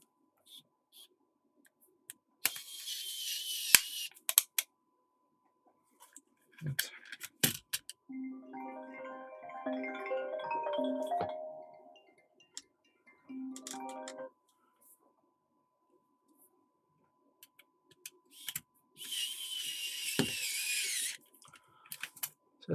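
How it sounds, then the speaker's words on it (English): Screws are driven into a PC Engine SuperGrafx console case, with scattered small clicks and taps, short bursts of scratchy friction and a middle stretch of whirring, ratcheting turns, all close and fairly quiet. "We can screw the rest in."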